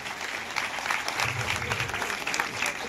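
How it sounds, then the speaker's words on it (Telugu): An audience at a public gathering claps loudly and steadily, a dense continuous wash of many hands with no break across the whole stretch. "ఒక్కసారి మీ అమూల్యమైన హస్తాలతో చప్పట్లు గట్టిగా కొట్టమని కోరుతున్నాం"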